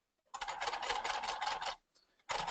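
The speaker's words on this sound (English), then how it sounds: "I'm going to stitch up to the point" A sewing machine stitching piping along the pointed corner of a jacket runs in a fast, even burst for about a second and a half, pauses, then starts up again, close and clear.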